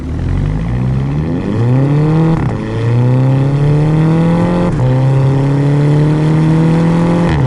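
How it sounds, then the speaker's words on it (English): 2011 Volkswagen Golf GTI MK6 with a dual-clutch gearbox revving repeatedly, engine pitch climbing through three rising pulls with brief burbling drops between shifts, loud and close from inside the cabin, a voice briefly heard. "you gotta love that dual clutch transmission burble"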